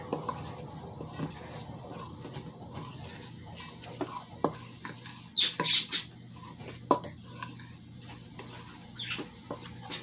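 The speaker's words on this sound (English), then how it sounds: "So, you get your dry ingredients. You're gonna mix it." Dry biscuit ingredients being stirred together in a bowl, a soft repeated scraping and patter close by, with a few sharper clinks of a utensil against the dish.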